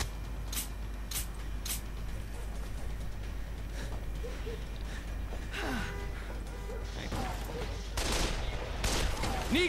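Gunfire in the shooter game Call of Juarez: The Cartel, with several sharp bursts of shots early and more scattered shots later, mixed with gasps and background noise.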